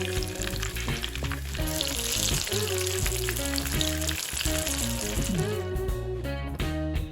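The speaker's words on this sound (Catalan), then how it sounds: "Ho deixo fregir per un cantó i després li dono la volta i ho fregiré per l'altre." Shrimp fritters fry in hot oil with a loud, continuous, close sizzle throughout, accompanied by steady background music.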